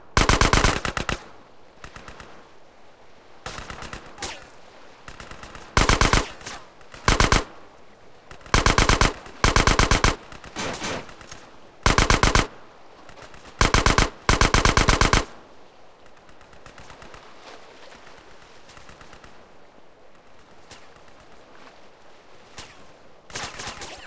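Loud machine gun fire from the GTA San Andreas video game comes in repeated rapid bursts, separated by short quieter gaps, ending with a longer stretch of low background.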